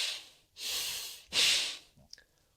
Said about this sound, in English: Wim Hof is a form of Bhastrika, the bellows breath